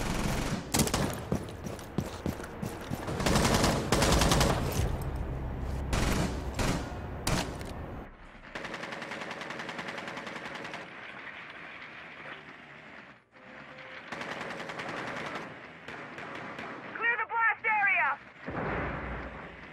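Rapid gunfire and explosions in the video game Rainbow Six Siege, dense loud bursts early then sparser shots, with players talking over the action throughout.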